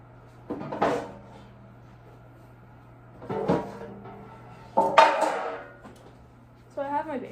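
A metal baking sheet for hardtack is handled in a kitchen: three short clattering knocks and scrapes spaced a couple of seconds apart, moderately near, over a steady low hum, with a brief voice near the end.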